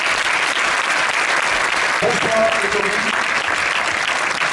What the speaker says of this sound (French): Je vais vous demander d'applaudir Monsieur Grégory Gadebois.